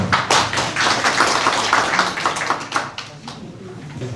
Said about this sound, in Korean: 큰 박수로 받아주십니다.